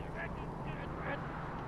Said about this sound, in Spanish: deben ser las gaviotas